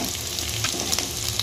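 Garlic sizzling and frying in a hot pan of oil with onions for a dhaba-style egg korma, a steady, close crackling hiss with small stirring flurries throughout.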